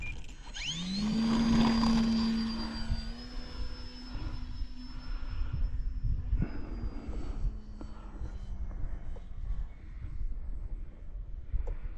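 An E-Flite Valiant 1.3M RC model plane flies past, its electric motor whining steadily with the pitch rising then gradually falling as it moves away, heard over outdoor wind noise.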